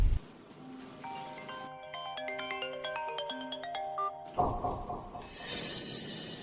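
A phone ringtone plays a clear repeating electronic melody for a few seconds during a call, loud and close, then gives way to a burst of broadband noise and a high hiss.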